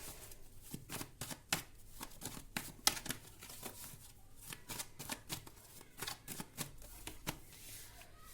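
Tarot cards shuffled close by, with rapid crisp riffling clicks and flutters in quick irregular bursts, quiet and without talk.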